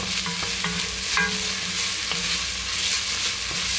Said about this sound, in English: we're going to stir this for about a minute until you can smell